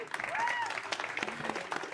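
Audience at the BECAfest 2025 event clapping in a steady, moderate burst of applause that carries on through the whole stretch, with some voices mixed in among the claps.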